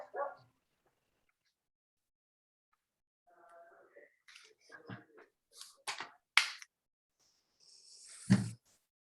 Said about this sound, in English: Somebody has a dog.